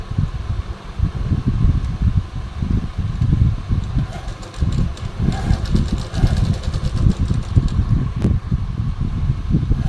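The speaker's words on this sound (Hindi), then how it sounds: "चलिए हम सिलाई लगा लेते हैं।" A sewing machine stitches a gents kurta, its loud motor whirring and rattling continuously throughout, with no pauses.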